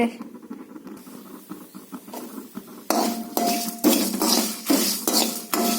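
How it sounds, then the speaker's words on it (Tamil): Dry chillies and coriander roasting in a pan for a dried-fish curry, with scraping and clinking of a utensil against the pan, quieter at first and then louder, repeated strokes. "இப்போ மிளகாவும் கொத்தமல்லி வறுத்துட்ருக்கேன்"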